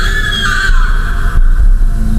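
A scream heard in the woods during a camping trip, loud and close: a long, high, wavering wail that slides downward and fades, then a rougher second cry over a low rumbling background.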